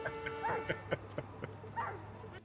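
A dog whimpers in Marvel's Hawkeye, giving a few short, rising whines over a steady low hum and background sound.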